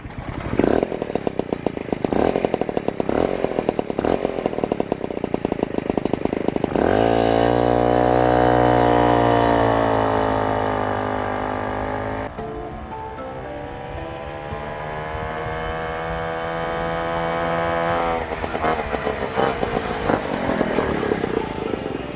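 Piaggio Ciao moped with a Polini clutch, its small two-stroke engine buzzing loud and close, first crackling at idle, then revving up into a sustained drone that rises and falls in pitch, running alone without talk.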